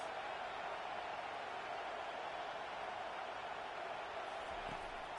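A college football stadium crowd at a Florida versus Florida State game roars as a steady, distant wall of noise while the offense lines up, with no clear talking.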